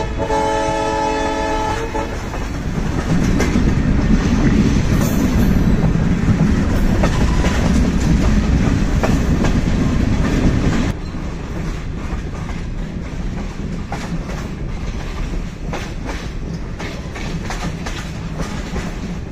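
A train pulled by a 1954 EMD G8 diesel locomotive departs Guantanamo station in Cuba, its horn blaring at the start over a heavy rumbling engine, then steady rolling and rattling of the cars continues loudly alone.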